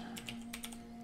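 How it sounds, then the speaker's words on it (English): Quick, close keyboard keystrokes tap out a short burst of typing during play of the typing game Epistory, crisp clicks alone with no talk. "My typing is terrible."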